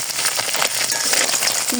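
Oil sizzling and spattering in a hot pan, a dense continuous hiss with small crackles, close and fairly loud, no talking.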